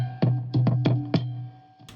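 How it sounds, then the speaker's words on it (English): Guitar strings slapped and picked up through a contact microphone, four sharp percussive thumps with a low ringing tone in a quick uneven rhythm, then a softer final hit. "I actually recorded a second layer to embolden the rhythms of the lead parts I was playing by sort of slapping the strings"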